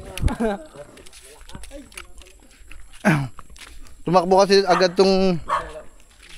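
Dogs bark a few times near the mic, mixed with talking, and a longer whining, howl-like vocalization follows toward the end.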